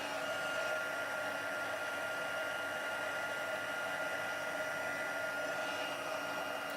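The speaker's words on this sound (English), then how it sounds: "I'm going to bring my heat tool and just melt that powder." A handheld heat tool blowing hot air to melt embossing powder on a small card tag, a steady whirring fan hum that runs constantly at moderate volume.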